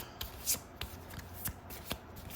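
A deck of moon oracle cards is shuffled close up, with quiet, repeated soft slaps and riffles in an uneven rhythm.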